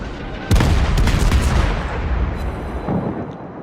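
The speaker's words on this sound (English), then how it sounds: "lobbing some rounds at the destroyers" Des Moines cruiser main guns firing in World of Warships: a loud booming salvo bursts in at once, then a quick run of heavy, rolling cannon blasts. The barrage thins into a lingering rumble with a few fainter shots near the end.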